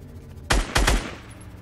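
Quick bursts of gunfire in Fortnite, a close, sharp volley of three shots in rapid succession followed by a short decaying tail, with no talk over it.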